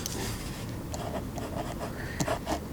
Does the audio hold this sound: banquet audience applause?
no